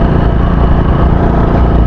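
Euro Sport 110cc four-speed motorcycle engine droning loudly and close while riding on a road, a steady low mid-pitched hum with no voices.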